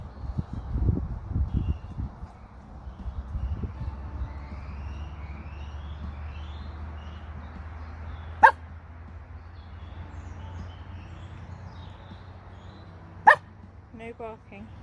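A dog outdoors gives two short, sharp barks several seconds apart over a steady low background hum and faint distant music.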